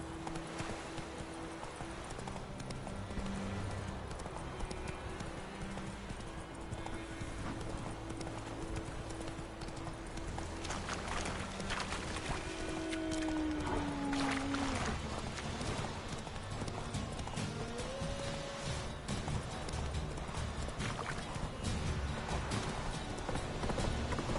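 Roach, a horse in a video game, gallops steadily with rhythmic clip-clop hoofbeats over a dense game soundscape, with a brief whinny partway through; occasional voice-like sounds mix in.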